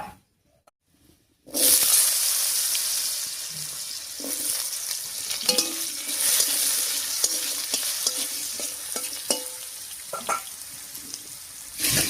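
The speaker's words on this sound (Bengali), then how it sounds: "ফোড়নটা ভাজা হয়ে গেছে, এবারে কেটে রাখা আলু দিয়ে দিচ্ছি।" After a second of silence, a loud steady sizzle of potatoes frying in hot oil begins, broken by occasional scraping and stirring clatters.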